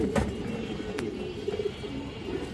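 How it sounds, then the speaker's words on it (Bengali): A large female pigeon coos softly in low repeated burbling notes, close and quiet, with a couple of sharp knocks in the background. "বড় সাইজের একটা মাদি কবুতর দর্শক"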